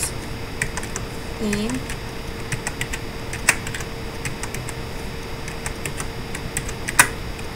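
Sparse, light clicks from a computer keyboard sound at irregular intervals during a virtual computer class, with a couple of sharper taps. A brief voice is faintly heard beneath them.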